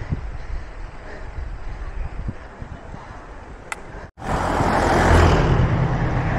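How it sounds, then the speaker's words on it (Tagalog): Outdoors on a bike ride, a steady rushing of wind over the microphone, then a sudden brief dropout followed by louder, stronger gusting buffeting. "Oo, hangin!"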